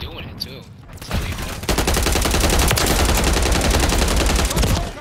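Rapid, sustained gunfire in a Hard Point shooter game, a dense burst-fire barrage that swells after a second and stays loud and continuous, with brief voice chatter under it.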